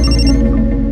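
A telephone rings out while someone places a call, a brief, dense burst of ringtone that is loud and close and lasts only about a second.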